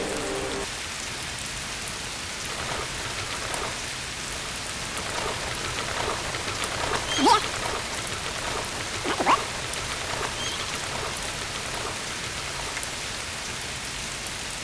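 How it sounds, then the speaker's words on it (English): Steady, dense rainfall in the video game The Guild 3, a constant wash of rain continuing evenly throughout with no talking. "Persistent rain is causing floods."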